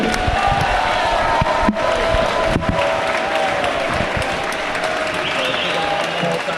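Crowd at a cage MMA event applauding and cheering after the evening's first bout, with loud sustained clapping, scattered whoops and shouts, and a couple of sharp bangs mixed in.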